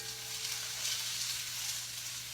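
Tofu browning in a pan for an orange-ginger stir fry gives a steady, close frying sizzle that holds evenly throughout with no talking.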